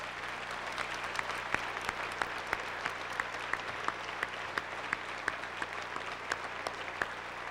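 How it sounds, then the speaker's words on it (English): Sailors, officers and chief petty officers at a Great Lakes recruit graduation review receive steady, moderately distant applause from a large crowd, with a few sharper claps standing out. "Let's give them a round of applause."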